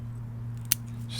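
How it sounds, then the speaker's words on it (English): Scissors trimming the foliage of an old juniper bonsai, a single sharp snip close by over a steady low hum. "Probably have to do a little bit of trim in here."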